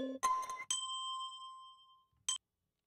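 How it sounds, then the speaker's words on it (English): A few short, bright bell tones ring out, one sustaining and fading gently over a second and a half, followed by a single quick chime. "Little bell."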